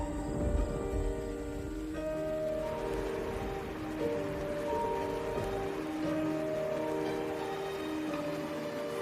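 Steady rain falls during a storm in a wild cheetah habitat, a dense continuous patter that stays even and fairly loud throughout, with no talk over it.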